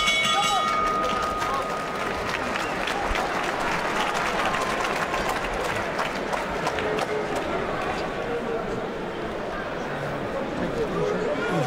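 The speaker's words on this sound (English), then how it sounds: "Deserved applause there for Chris Eubank Jr." Crowd applause at a boxing match for Chris Eubank Jr. against Paul Allison, a broad sustained wash of clapping and cheering from a large arena audience, with a commentator talking over it throughout.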